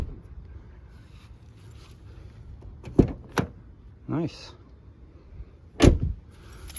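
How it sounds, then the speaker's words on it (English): A Toyota car door being shut after a door lock repair, heard as two sharp, close thuds a few seconds apart with a brief mechanical whir between them, while someone speaks briefly. "Let's close the door, see how it works."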